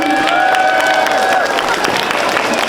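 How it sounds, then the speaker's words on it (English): Crowd at a Cambodian Lunar New Year celebration applauds wedding ceremony performers, loud close clapping mixed with cheering and a held voice over the start. "if we can please give another round of applause for our wedding ceremony"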